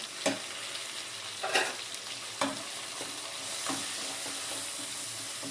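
Soft, steady sizzling of pepper and cumin frying in oil, punctuated by a few scraping stirs of a spoon in the pan, close and fairly quiet.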